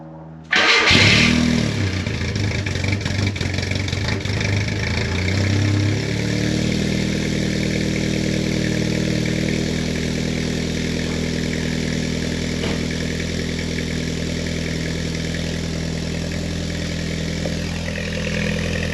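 A Mk2 Jetta fitted with a homemade exhaust that has a leak cranks and fires up loudly, then settles into a steady, rumbling idle that continues unbroken with no voices.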